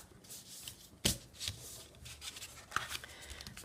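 Cardstock paper is folded by hand while making a Stampin' Up! drawer box, producing soft, close rustling and crinkling with one crisp crease snap, all quiet and without speech.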